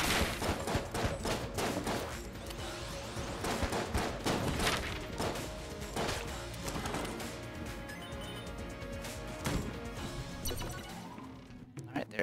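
Enemy books firing volleys of shots in Enter the Gungeon, a steady run of sharp gunfire bursts over busy game music and effects, with a person talking throughout.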